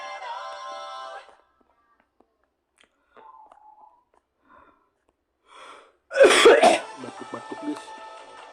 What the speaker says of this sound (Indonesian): Batuk-batuk guys.